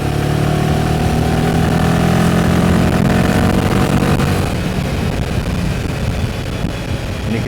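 A Royal Enfield Himalayan 450 motorcycle engine pulls in fifth gear, a continuous mid-pitched drone with steady road and wind noise that holds a constant level throughout, with no voices over it.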